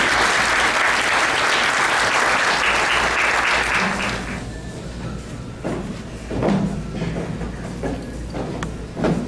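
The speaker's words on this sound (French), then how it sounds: "Applaudissez-les s'il vous plaît." An audience at a ceremony claps loudly and densely for about four seconds, then the applause fades to scattered claps and room noise with a few thumps.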